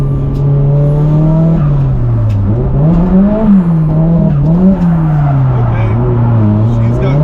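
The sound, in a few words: car accelerating and revving on a race track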